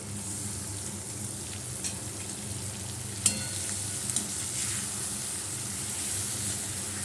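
Turmeric, chili powder and ginger paste frying in a pan for a fish kalia, giving a constant, dense sizzle with one brief sharp clink of a utensil midway, close and steady.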